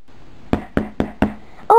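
Four evenly spaced knocks on a door during a party, sharp and fairly close, followed right away by a voice starting to speak.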